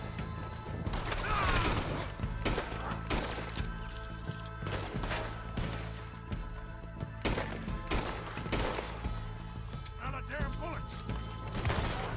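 Gunfire in Red Dead Redemption 2, a series of loud, sharp shots and impacts with crashing in between, repeating over a dense, busy game soundscape.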